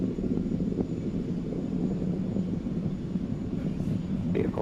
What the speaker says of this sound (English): Falcon 9 has cleared the tower and is now headed upward on its mission to sun-synchronous low Earth orbit.